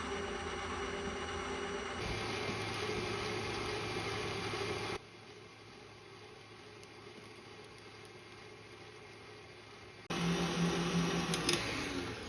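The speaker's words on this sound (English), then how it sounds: "to beat the sugar into the eggs. Add the sugar slowly." Electric mixer with a whisk attachment beating sugar into eggs for eggnog, a steady motor whir that drops to a lower, quieter hum in the middle and then rises again, with no speech.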